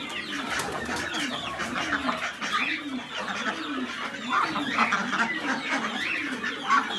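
Chickens cluck and a rooster calls amid bird chatter on an open farm, a busy, moderately distant flock with repeated low calls and scattered sharper squawks, with no talking.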